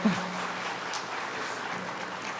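Church congregation applauding during a Sunday service, a steady wash of clapping that holds at an even level for a couple of seconds with no voices over it.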